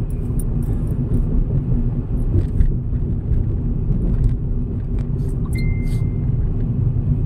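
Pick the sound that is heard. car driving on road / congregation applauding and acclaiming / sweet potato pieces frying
car driving on road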